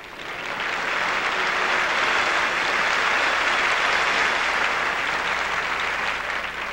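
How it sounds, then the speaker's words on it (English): Theater audience applauding after Strauss music, a sustained dense clapping that swells in and fades slightly toward the end, no talk. "I'd like to share your wonderful applause for the music of Strauss"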